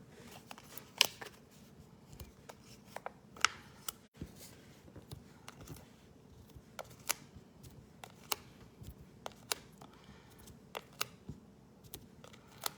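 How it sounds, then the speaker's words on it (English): Scissors trim ribbon for a handmade stamped card, a steady run of small crisp snips and clicks spread across a quiet tabletop. "I can kind of trim up my ribbon as well at that time"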